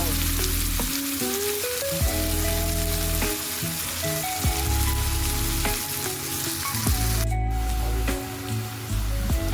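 Onion, curry leaves and green chillies fry together in hot oil in a pan, giving a steady, close sizzle with occasional stirring scrapes for the whole stretch, no voices.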